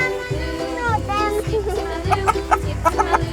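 Chickens cluck in short bursts at a farm in Pathum Thani while a child and an adult talk over them, the clucks rising near the end.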